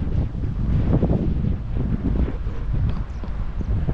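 Strong wind in Doha, Qatar buffets the microphone in a steady low roar, gusting throughout with no clear voices.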